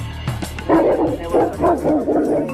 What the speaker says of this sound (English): These are mastiffs. They're sniffing me.